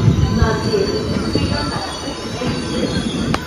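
The Shri Ganganagar SF Express pulls into platform 3 of Udhna Junction in Surat, its wheels squealing loudly and continuously over a rolling rail rumble, with a sharp metallic screech near the end.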